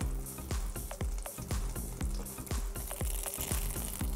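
A breaded oyster, coated in egg and a double layer of breadcrumbs, fries in a pan with a crackling sizzle, punctuated by regular sharp clicks and taps close by.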